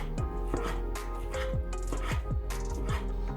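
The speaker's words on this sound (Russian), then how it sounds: "затем накручиваю в рулет и режу тоненько," A knife chops steadily on a board, slicing rolled crepes into thin noodles, about a dozen crisp evenly spaced cuts close up, with no talking.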